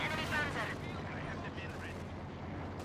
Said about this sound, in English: took a shot from the SU-85